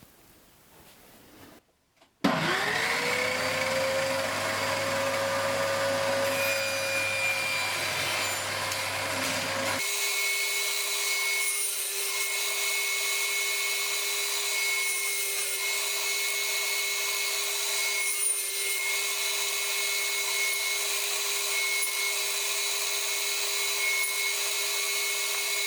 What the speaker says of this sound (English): Now I'm just going to use the crosscut sled to make the cut this way by setting the height of the blade